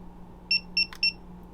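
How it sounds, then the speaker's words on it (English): Three short electronic beeps from a TST series 50 tire pressure monitoring system, evenly spaced and clear over a low steady hum, with a brief click between the second and third. "You will hear 3 beeps."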